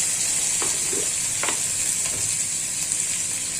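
Fennel and chili powder fry in hot oil with a constant close sizzle, broken by a few soft stirring scrapes.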